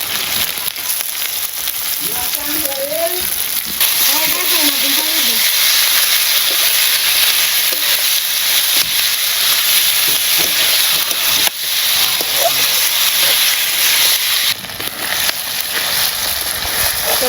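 Spices, vegetables and skin being sautéed in a pan in a village kitchen make a loud, continuous hissing sizzle with steam, close up and steady, with faint voices now and then.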